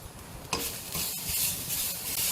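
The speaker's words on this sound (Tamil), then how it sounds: "எண்ணெயெல்லாம் சேர்க்காம அதை ரோஸ்ட் பண்ணணும்." Red chillies and grated coconut dry-roasting in a pan with no oil, stirred over low heat: a steady soft crackle and hiss with a brief scraping rustle near the start, close and continuous, no voices.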